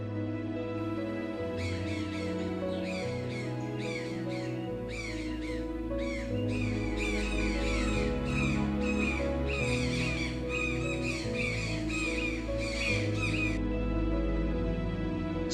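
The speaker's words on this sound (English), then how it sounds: "toucan" Toucan calling in a rapid run of harsh, croaking notes repeated in quick bursts for several seconds, loud and close over a steady bed of background music.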